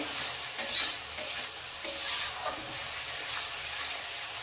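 Onion lightly frying in a pan of oil for fish curry, a steady bright sizzle with occasional stirring scrapes and small crackles, close and continuous with no talking.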